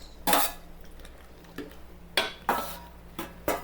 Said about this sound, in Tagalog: Ito, hulog na natin. Itong ating patatas at saka carrot.